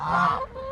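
Geese eating watermelon let out a short burst of close honking that fades briefly and then picks up again, with no voices over it.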